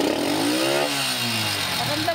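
Honda TMX Alpha motorcycle engine running with its air cleaner uncovered, a steady close idle with a slight rise in pitch, under a voice talking.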